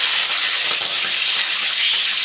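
Green chillies drop into hot oil already frying mustard seeds and urad dal in a pan for tomato rice, producing a loud, continuous hissing sizzle that stays even throughout.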